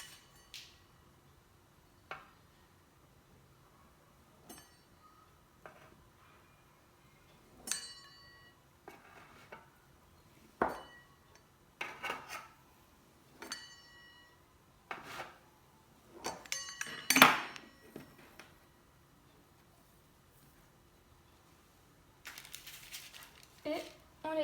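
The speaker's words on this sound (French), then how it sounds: "Ensuite, on prend notre plat à four." A baking dish is handled while making a Swiss brioche with chocolate chips, giving sparse, faint clinks, knocks and clatters scattered at irregular intervals with quiet gaps between them.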